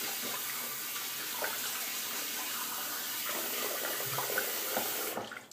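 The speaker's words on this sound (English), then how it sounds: "So let me go ahead and wet the face and we'll get lathering." A tap runs steadily into a sink while the face is wetted before a shave, a continuous close splash that cuts off abruptly at the end.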